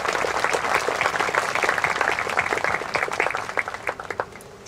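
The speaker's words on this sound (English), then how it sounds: "So could we please give them a round of applause?" Applause at a 2023 high school commencement ceremony for the technology department, a large audience clapping loudly and steadily before it thins into scattered claps and fades out.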